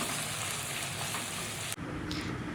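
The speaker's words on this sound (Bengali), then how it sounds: "বিরিয়ানি পেঁয়াজ ভাজা হচ্ছে।" Sliced onions for biryani frying in hot oil, giving a loud, steady crackling sizzle that drops suddenly quieter near the end, with no voices.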